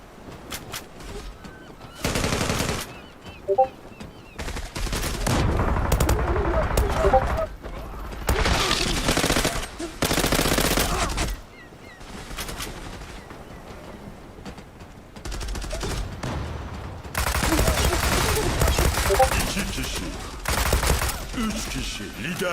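Rapid automatic gunfire from an MP76 in the online shooter Zula, several loud sustained bursts separated by short pauses, with game sounds and voices between volleys.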